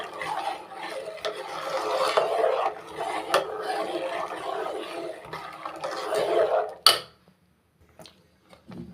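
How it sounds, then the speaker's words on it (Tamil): Urad dal batter being stirred steadily with a ladle in a pan on the stove, a continuous close scraping and rubbing that runs for several seconds, then ends in a sharp knock before near silence. "கைவிடாமல் கிண்டிக்கிட்டே இருக்கணும்"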